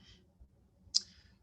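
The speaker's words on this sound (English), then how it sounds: "So I'm just going to click on that, right?" A single sharp computer mouse click sounds close and crisp in near silence, with a fainter tick just before it.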